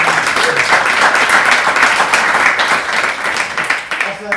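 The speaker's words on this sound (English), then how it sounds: "Let's give Adam a last big round of applause." Loud, dense applause from an audience at a tech meetup event in Berlin, steady clapping throughout that tapers slightly near the end, with some voices mixed in.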